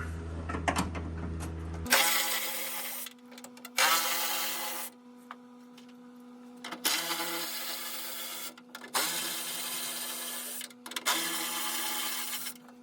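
A socket wrench loosening the bolts of the latch mechanism at the center of a Ford Bronco tailgate, with several rasping ratchet bursts of a second or two each separated by short pauses.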